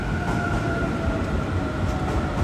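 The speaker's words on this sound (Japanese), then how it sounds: "銚子方面から行き違いとなる特急潮騒10号東京行きがやってきました。" An E259 series Shiosai limited express train bound for Tokyo rumbles past at steady volume, a continuous broad roar with a faint high whine, no voices.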